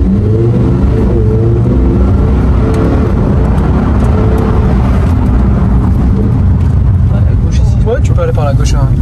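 A Lamborghini Huracán STO nearing the end of its break-in period drives on city streets, its engine a steady, loud low rumble throughout, with people talking inside the car over it.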